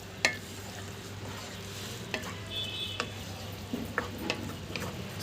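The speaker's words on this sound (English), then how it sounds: "Mix it nicely." A masala chips mixture is stirred in a pan, with a low steady sizzle under scattered light scrapes and clicks of the utensil against the metal.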